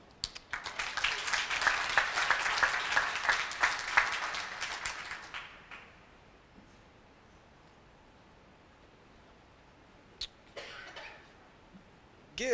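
Applause from an audience at a tribute event honoring the Tuskegee Airmen, a dense burst of clapping for about five seconds that then fades out, leaving quiet room noise with a few isolated coughs and rustles.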